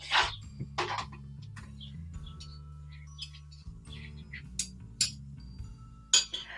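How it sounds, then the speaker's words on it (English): A spoon stirring oils, butters and beeswax in a bowl for a hydrating skin balm stick, giving soft scattered clinks and scrapes against the bowl, fairly close and quiet over a low steady hum. "Once you have everything in your bowl, you're just going to give it a little bit of a stir."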